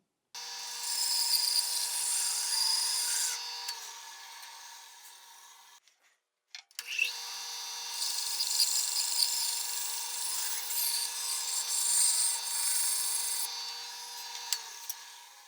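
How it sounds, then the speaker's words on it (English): A bandsaw cutting out a wooden holder piece in a workshop, two sustained bright buzzing passes with a short pause between, close and steady, no talking. "I'm going over to the bandsaw and I'm going to cut something like that out"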